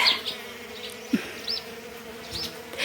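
Bees hum and buzz steadily all around, a close, continuous drone with individual insects rising and fading as they fly past.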